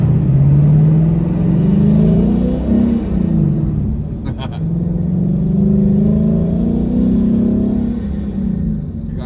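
A Lexus RC F fitted with a fuel pump booster drones steadily while driving, its engine note rising and falling through gentle acceleration, loud and close, with a voice speaking briefly over it.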